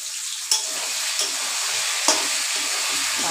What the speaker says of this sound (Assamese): ভাজা একদম ধুনীয়াকৈ একদম ৰেডি হৈ গ'ল মোৰ মাংস ফ্ৰাই